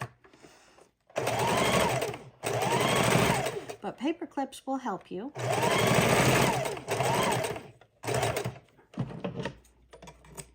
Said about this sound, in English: And we want to sew right on the very edge of it.